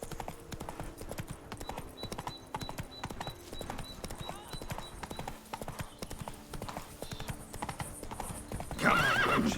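Roach, a horse in the video game The Witcher 3, galloping with a steady, rapid clip-clop of hooves throughout, a rising whinny or louder burst at the very end, and faint speech mixed in.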